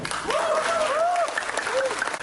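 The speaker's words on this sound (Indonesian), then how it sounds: "Jangan tepuk tangan dulu" Applause from an audience at a public event, a brief burst of clapping with a voice speaking over it.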